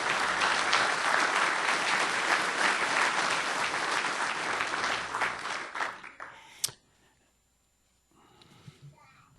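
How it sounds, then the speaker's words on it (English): Enthusiastic audience applause for graduates at a 2013 NCSU mathematics graduation ceremony, a dense, loud clapping that holds steady for about six seconds, then thins into a few scattered claps and fades to near quiet. "let's give everyone a big round of applause"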